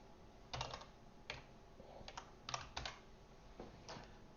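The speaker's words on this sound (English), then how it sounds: "that is a lot of typing" Fingers tap a computer keyboard in short, irregular bursts of quick keystrokes. The clicks are faint and close, with quiet pauses between the bursts and no talking.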